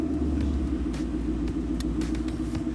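A heavy supercharged V8 engine in a 2019 Mustang GT, freshly started on a dyno, rumbles steadily up close, a deep lumpy idle with slight fluctuations and faint ticking on top.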